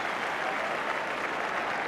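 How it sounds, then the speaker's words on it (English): Liverpool supporters in the crowd at a 1984 Tottenham Hotspur v Liverpool football match give warm applause to an old favourite: a dense, steady wash of clapping from a large stadium crowd, even in loudness throughout. "they are Liverpool supporters to the right as we look, giving warm applause to an old favourite"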